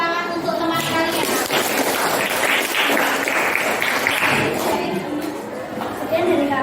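Classroom audience claps for classmates after a presentation, a dense burst of applause mixed with chatter that carries on without pause.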